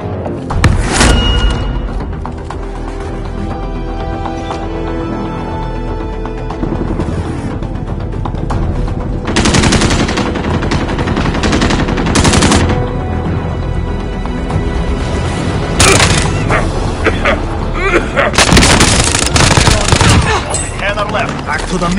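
Dense video game gunfire with rapid machine-gun bursts and scattered heavy booms, loud and nearly continuous throughout, with a few sharper louder volleys standing out.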